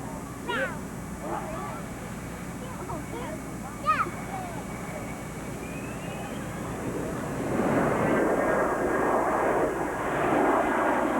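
A B-2 Spirit stealth bomber passes overhead as a low, quiet broadband engine rumble that swells louder in the last few seconds, with people talking and brief high calls over it early on.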